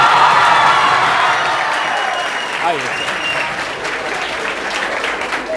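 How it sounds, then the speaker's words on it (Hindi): Children in an audience applaud loudly as a director and physics teacher is introduced at a coaching institute event, a dense, sustained clapping that slowly eases, with a brief spoken word. "जोरदार ताली बच्चों की तरफ से"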